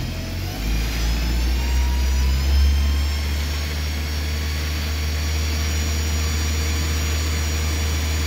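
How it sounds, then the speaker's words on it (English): A warmed-up Toyota car engine revved up, a loud low roar that climbs and swells in the first seconds and then settles into a steady high-pitched hum, close by with no talking. "Let's rev it up."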